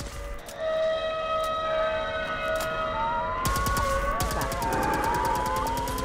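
Siren Head creature in the game Fallout 4 letting out a loud, sustained siren wail with rising and falling tones, joined midway by rapid repeated mechanical clicks or gunfire, no speech.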